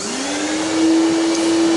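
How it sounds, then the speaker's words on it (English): A vacuum cleaner runs steadily while cleaning a wood lathe in a workshop, a loud, close, continuous whine with a steady motor tone and airy rush, no talking. "get Mr. Vacuum"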